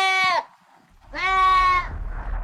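A goat bleats twice, close and loud: a short bleat, then a pause, then a longer wavering bleat with low rumbling noise trailing after it.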